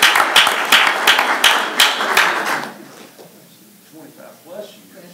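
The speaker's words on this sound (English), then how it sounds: "Let's give Miss Renita Abernathy one more round of applause." An audience applauds a staff member award at a school, a loud close burst of clapping for about three seconds that then fades to scattered claps and murmuring voices.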